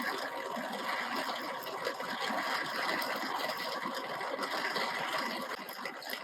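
Drill boring into aluminum stock for a pen, a steady dense whirring and grinding with small rattles, close and continuous with no talk.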